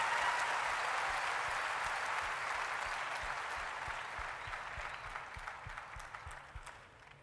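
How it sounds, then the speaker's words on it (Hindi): Audience at a motivational training event in Lucknow claps loudly and steadily, a dense burst of applause that slowly fades with no talking over it. "एक बार उसके लिए जोरदार तालियां होनी चाहिए"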